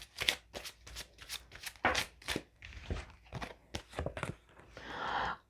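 Tarot cards are shuffled close by in several quick riffled bursts of papery flutter and slaps, with short pauses between them and a final longer riffle, no talking.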